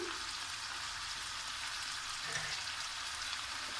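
Flat beans being laid into hot oil in a pan for a spicy mola fish curry, giving a steady, soft, even sizzle throughout with no talking.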